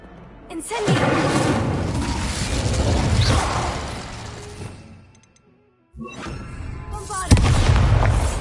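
An Incendio fire spell in Hogwarts Legacy bursts out in a loud, roaring whoosh that swells and fades. A short silence follows, then another forceful blast kicks in.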